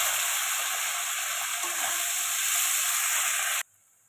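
Onions sizzle and hiss steadily in a hot pan for a chicken and potato curry, a loud continuous frying sound with faint stirring, ending abruptly.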